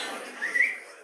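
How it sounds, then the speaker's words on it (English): A man whistles a single short rising-and-falling note, clear and fairly close, in a speaking setting. "could you give a whistle?"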